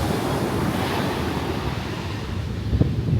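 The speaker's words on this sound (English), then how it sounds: "Check out the waves." Ocean waves roll onto a chilly winter beach in Dubai, a steady broadband wash of surf with gusting wind buffeting the microphone throughout.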